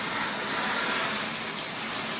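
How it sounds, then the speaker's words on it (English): Steady loud hiss and whoosh of compressed air and a vacuum running continuously at close range, cleaning out the inside of a Honda VTR 250 motorcycle gas tank. "we're going to use compressed air and a vacuum"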